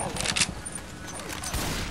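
Rapid gunfire rattles in the video game Left 4 Dead 2, a dense burst of shots with voices mixed in.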